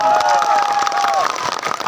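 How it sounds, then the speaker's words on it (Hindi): Crowd applause at an Adivasi rally, a dense wash of clapping mixed with cheering and a held tonal voice or whistle, loud and sustained over the whole short stretch. "जोरदार तालियां बनेल बाबा"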